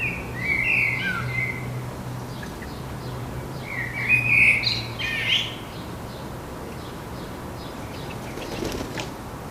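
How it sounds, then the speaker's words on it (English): A blackbird calls several times close by, short bright chirps rising over a steady outdoor background, with a louder burst of calls midway. "A different blackbird calls loudly nearby a few times."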